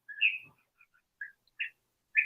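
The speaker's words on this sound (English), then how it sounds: "Do you hear the bird chirp?" A few short, bright bird chirps and whistles sound in quick bursts, clear against near silence.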